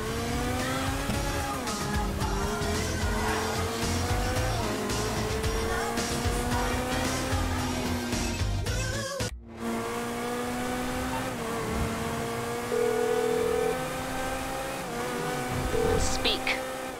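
Street race cars in Grand Theft Auto 5 roar and rev continuously up close, engine pitch climbing and shifting through gears, with squealing tires and a brief cut midway; voices talk over the engines at times.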